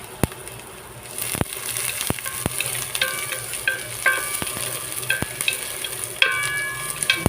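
Ginger, garlic and onion sizzling in a hot pan for shrimp with mushrooms, a steady close frying hiss with scattered clinks and scrapes of stirring, rising slightly louder toward the end.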